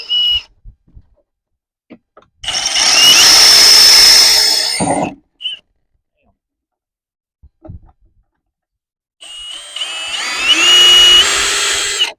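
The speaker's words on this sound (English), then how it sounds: "I'm gonna drill a pilot hole for these." A power drill whines in two bursts of a few seconds each, high-pitched and close, drilling pilot holes on an old trailer, with near silence and a few small knocks between them.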